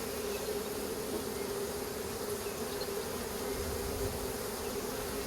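A swarm of honey bees buzzing at a hive, a dense, steady, continuous drone that stays close and loud throughout, with no talking.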